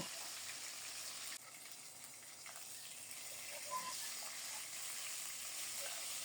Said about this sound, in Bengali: কি সুন্দরভাবে ভাজা হচ্ছে দেখুন